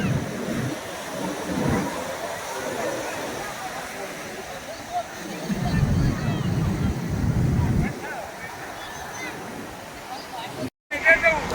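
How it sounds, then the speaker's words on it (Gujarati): Sea waves wash in at Madhupur beach in Gujarat in the evening, a broad surging rush with wind buffeting the microphone while people talk over it. "જોઈ લો દરિયાના મોજા."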